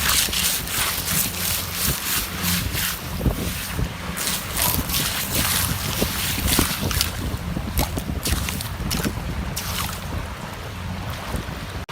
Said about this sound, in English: Alright, so the waves just came in again.